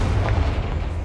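A Confringo fire spell in Hogwarts Legacy blasts with a dull, booming burst that rumbles briefly over a low background hum.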